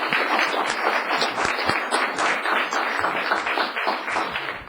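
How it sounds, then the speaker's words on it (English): A council meeting audience applauds in a dense, steady patter of many hands clapping, holding the same level throughout with no lull. "let's give him a round of applause."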